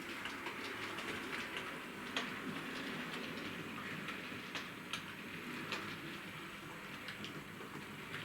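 A Bachmann Class 40 model diesel locomotive, number D395 (30-090), runs smoothly along model railway track, giving a steady close rolling rumble with faint rhythmic ticks from the wheels and track joins throughout.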